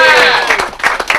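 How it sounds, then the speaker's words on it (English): Applause for a player at an amateur football club, a brief burst of clapping from a small crowd, fairly close and loud, fading slightly over about a second. "Let's give Sam a round of applause as well."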